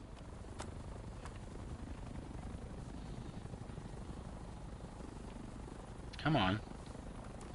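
A video game helicopter drones with a continuous low rotor rumble throughout, steady and moderately loud, while a voice briefly calls out near the end.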